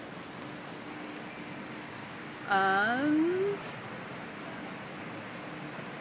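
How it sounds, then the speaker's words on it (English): Steady summer rain hiss in Beijing fills the scene throughout, with a brief spoken word partway through and a short whining tonal sweep over the downpour. "It's still raining."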